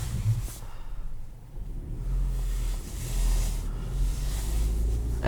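A 2021 Kia Soul LX with a manual gearbox pulls away in first gear, giving a steady low engine rumble that swells slightly as it moves off, with some wind noise.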